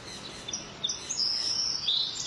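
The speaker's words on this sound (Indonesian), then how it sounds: "berbagai jenis burung." Birds chirp and tweet at Lok Kawi Wildlife Park, a steady mix of high, bright calls and short whistles over a soft ambient wash, with no talking.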